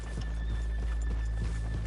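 Rhythmic clip-clop of horse hooves at a steady walking pace in Red Dead Redemption 2, with a faint high tone and low hum running underneath.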